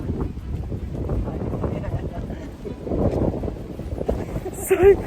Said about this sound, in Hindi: तो अभी ना यहाँ पे बहुत तेज़ हवा है, बहुत ज़्यादा ही।